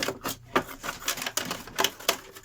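Scissors cut through an old rinsed plastic milk bottle in a quick series of crisp, clicking snips, close and clear, with no speech.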